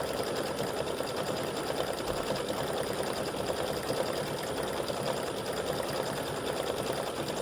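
An embroidery machine stitches yellow flower petals with a light underlay, a fast, steady mechanical chatter running continuously and close, with no voices over it.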